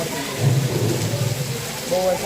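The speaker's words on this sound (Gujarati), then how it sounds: "પછી તો કન્ટિન્યુ વરસાદ ચાલુ જ છે" Steady rain hiss with low rumbling, fairly loud and continuous, with faint voices murmuring underneath.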